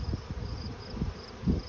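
Honey bees hum steadily and close around beehives that are full of honey, a continuous insect drone with small swells in loudness and no voices.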